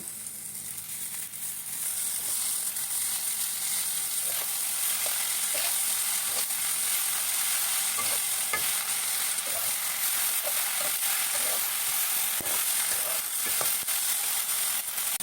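Jute leaves hitting onions already fried light red with a little turmeric sizzle steadily in a pan, a continuous close hiss with faint scattered crackles and occasional soft stirring taps, no voices.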